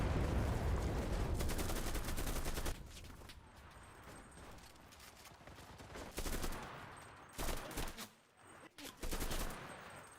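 Automatic fire from an MKb-42H assault rifle in the shooter Enlisted, loud dense bursts of rapid shots in the first seconds, then scattered shorter volleys and single cracks with brief pauses between.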